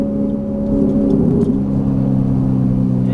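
A Ferrari 458 Italia on a race track shifts up a gear; the engine note drops and then settles into a steady, loud rumbling drone from inside the car.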